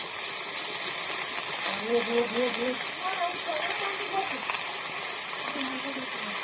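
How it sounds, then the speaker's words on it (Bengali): Steamed cauliflower frying in a pan of hot oil gives a continuous, even sizzling hiss through the whole clip, with a voice talking briefly over it. "ভাপানো ফুলকপিটা আগে আমি ভেজে নেব।"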